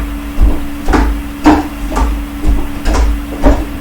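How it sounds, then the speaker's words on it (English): Hands strike a wooden Wing Chun dummy in about seven sharp, evenly spaced knocks, close and loud over a steady background hum. "If you're not used to hitting the wing dummy"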